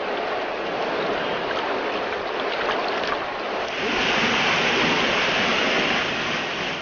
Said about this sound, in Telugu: కొండలు కోనలు దాటి ఆ ప్రవాహం అపురూపం.